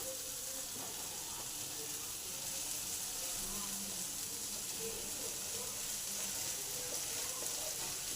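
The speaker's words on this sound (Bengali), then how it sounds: "সময় এই মাছের ডিমের ঝুড়িটা দিয়ে দিই" Fish roe goes into a hot pan of spices and softened tomatoes, giving a continuous, even hiss of sizzling oil with faint clinks, close by and steady throughout.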